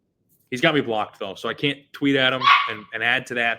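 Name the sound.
dog barking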